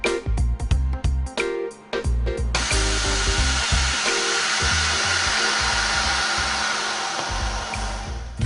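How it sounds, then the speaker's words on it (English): A Henkelman vacuum packing machine seals duck breasts in vacuum bags: a few short clicks and thumps open it, then a loud, steady mechanical hum and hiss runs without a break until the end. "Pack the duck breasts in vacuum bags and place a piece of neoprene tape."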